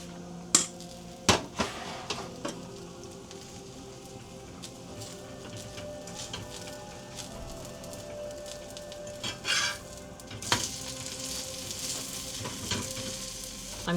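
Stuffed roti, a paratha filled with onion, cauliflower or potato, fries in oil in a pan with a steady close sizzle, broken by a few sharp clanks and scrapes of a spatula near the start and again around the flip.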